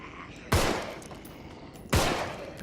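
Two loud gunshots ring out about a second and a half apart in the zombie game Contagion, each with a decaying echo.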